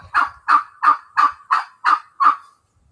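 A bird calls loudly and close by, seven evenly spaced gobbling notes in a steady rhythm, then silence.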